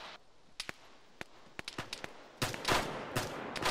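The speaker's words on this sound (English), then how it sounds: "I think I got gunshots east, southeast." Gunfire in a military video game: sparse single cracks at first, then a denser burst of shots near the end, all faint and distant.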